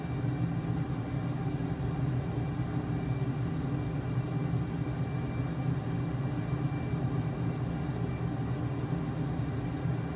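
An airplane engine drones steadily as the aircraft climbs during a video game flight, a continuous, even rumble with no breaks from start to finish.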